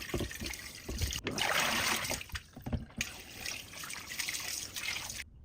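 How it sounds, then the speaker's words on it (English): Beef short ribs are rinsed under running tap water in a kitchen sink: a steady trickling splash with irregular bursts of heavier flow, close and fairly quiet. "Grab short ribs and give them a good rinse."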